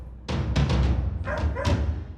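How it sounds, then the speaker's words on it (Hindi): A dog fighting a king cobra inside a house in Ballia, Uttar Pradesh, lets out several sharp, loud barks close up, fired in quick succession with brief gaps. "टॉमी नाम का जो कुत्ता था, उसने अपने मालिक की किंग कोबरा जैसे विषैले"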